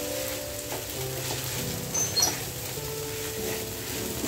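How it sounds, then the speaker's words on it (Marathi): Food sautéing in a pan in a home kitchen, a faint steady sizzle with soft stirring scrapes at low volume and a few background tones; no talking. "आता हे चांगलं परतून घ्यायचं"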